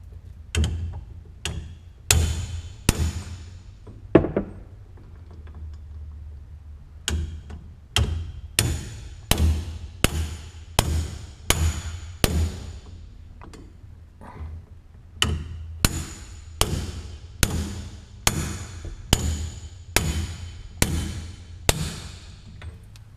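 A 3-pound hammer strikes a Porsche 944 part during an LS swap, ringing in sharp metallic blows, some in quick bursts and others in a steady, evenly spaced run, loud and close.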